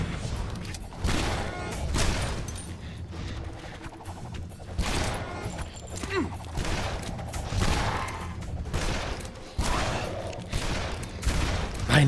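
Gunfire from a revolver in the shooter game Shadow Warrior, a busy run of loud, sharp shots and bursts fired one after another amid other game noise.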